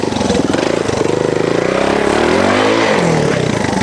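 A Honda TLR trials motorcycle engine revs up and down close by, a buzzy, pulsing growl rising in pitch, with no voices.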